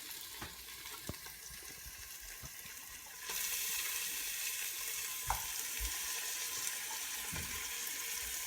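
Mutton bones drop into a pan of frying onion, tomato and star anise; a soft sizzle rises sharply partway through and holds as a steady frying hiss, with a few faint clinks and knocks.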